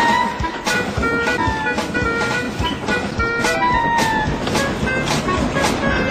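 A steam train chugs along with rhythmic puffing and clattering wheels, steady and close, with faint squeals mixed in.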